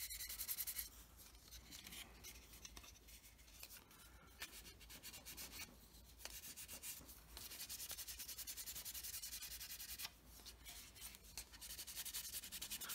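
Micromesh pads sanding the plastic surface of an Airfix Hawker Hurricane Mk.1 Tropical model, making soft, continuous, close rubbing strokes with a faint hiss and a few short breaks.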